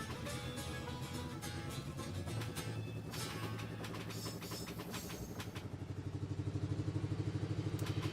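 A train's base engine runs in Infinite Rails with a steady rumbling drone and rhythmic clatter that grows into a stronger pulsing chug toward the end, alone without talk.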